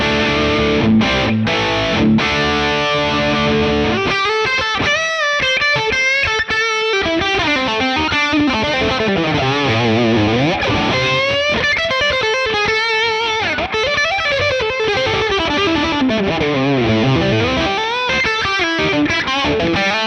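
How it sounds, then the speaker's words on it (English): Electric guitar played through an IK Multimedia Mesa/Boogie Triple Crown amp simulation with a 4x12 Road King cab, loud and distorted, with sustained chords, bends and melodic lead lines running throughout. "let's move on to the Triple Crown, another very full-featured amp."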